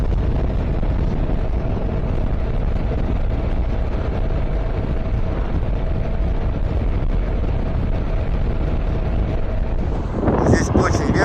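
Strong wind on a mountainous coast buffets the microphone with a constant low roar, growing gustier near the end.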